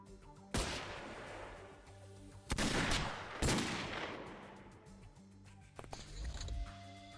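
Gunfire in the X-Com Files game: several loud sharp shots with long decaying echoes, spaced a second or two apart, then a cluster of quicker smaller reports near the end.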